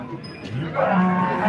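A cow lows at the Modnimb cattle market, a single drawn-out moo rising near the end, close and fairly loud against a faint background murmur.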